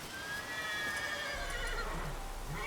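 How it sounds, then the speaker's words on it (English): Horses in The Witcher 3: Wild Hunt video game neigh and whinny, a long high whinny followed by more neighing, with a low rumble beneath and no talking. "Horses."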